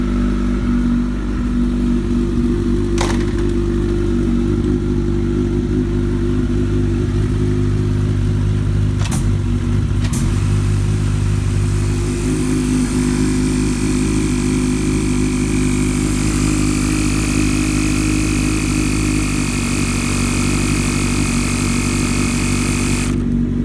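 A 2013 Kawasaki ZX-14R motorcycle fitted with a new quick shifter idles and revs close up, holding a steady loud drone broken by a few sharp clicks, then climbing into a brighter, higher-pitched rev late on.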